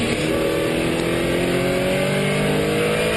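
A race car at Miller Motorsports Park accelerates hard out of a corner, its engine a loud, sustained rising roar that fills the whole stretch, with steady wind and road noise and no talking.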